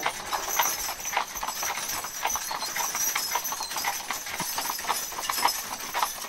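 A horse team's hooves clip-clop steadily while pulling a wagon through farmland during a wagon train ride, the rhythmic hoofbeats moderately close and continuous over faint road noise, with no talking.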